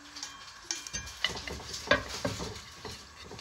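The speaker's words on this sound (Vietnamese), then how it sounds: "Giờ em cho dầu vô đặng em xấy tỏi." Garlic fries in oil in a pan, crackling with a steady sizzle while a utensil scrapes and stirs it in irregular strokes, with a few sharp clinks against the pan.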